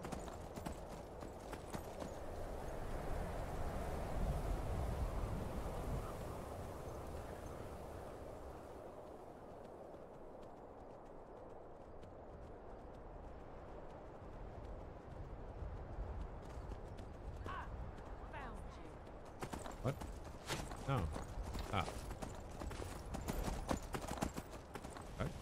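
A horse gallops in Skyrim Anniversary Edition, rapid hoofbeats drumming steadily under quiet game ambience, fading and then breaking into scattered thuds near the end.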